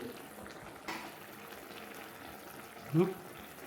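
Tomato simmers in hot water in a pan with a low, steady bubbling, plus a brief louder splash or gurgle near the end.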